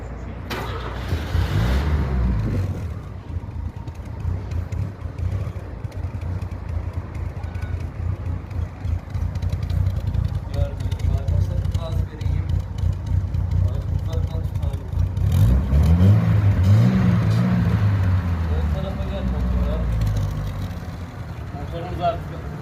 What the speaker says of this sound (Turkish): Dizel araba gibi çalışıyor bir araç.